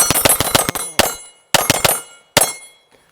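An Atlas 2011 pistol fires rapid shots as a magazine is emptied, a fast string of sharp cracks in three bursts with ringing metallic tails and short pauses between, loud and close.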